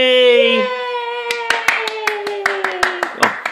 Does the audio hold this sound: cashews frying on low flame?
no